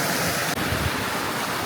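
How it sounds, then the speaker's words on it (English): River babbling over rocks at Eastergate Bridge in Marsden, West Yorkshire, a steady close rush of flowing water filling the whole moment with broad, even hiss. "the river's babbling happily"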